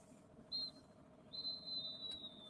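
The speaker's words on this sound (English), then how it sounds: "Half-time whistle just goes at the Emirates" A referee's half-time whistle at a women's football match between Arsenal and Leicester at the Emirates, one short shrill blast followed by a longer sustained blast, heard thin and distant over low crowd murmur.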